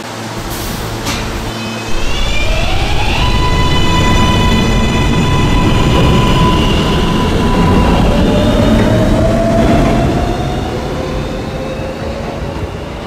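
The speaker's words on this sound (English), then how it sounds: "This is a Union Turnpike bound B train via the K line." An R143 subway train on the B line, bound for Union Turnpike, runs loud and close with a steady roar and rumble, rising whining motor tones and a brief squeal, with no talk over it.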